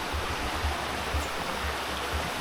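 A river flows through the Sumatran jungle with a steady rushing wash of water, close and continuous, alongside low thumping bursts in the background.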